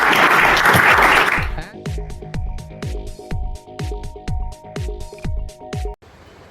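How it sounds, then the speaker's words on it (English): A brief burst of audience applause for panelists at an investor event fades within about a second and a half, followed by a run of sharp, evenly spaced knocks or thumps. "If we can please give them a big round of applause."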